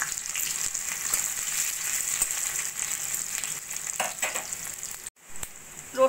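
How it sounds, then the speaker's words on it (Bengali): Seven or eight cloves of chopped garlic fry in oil in which chillies were just browned, giving a continuous close sizzle with a brief dip near the end, no voices over it. "ওই তেলের মধ্যে দিয়ে দেবো আমি 7-8 কোয়া রসুন কুচিয়ে নেওয়া।"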